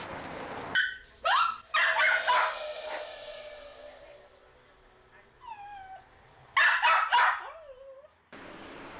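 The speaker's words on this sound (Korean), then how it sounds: "어머니가 떠나자 문 쪽을 바라보며 짖기 시작하는 녀석." A small pet dog left alone indoors barks in short bursts toward the door after its owner leaves, with sharp yips near 1 and 7 seconds and a whimpering, whining tone in between, close and fairly loud.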